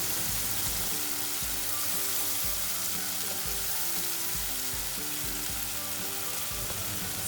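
A blended spice paste for spicy chicken tongseng is stirred as it fries in a pan. It gives a steady, close sizzle with repeated scraping strokes throughout, and no one speaks.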